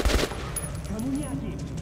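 Gunfire in the video game Metro 2033 Redux, a short burst of loud shots right at the start that quickly gives way to a quieter, murky game ambience.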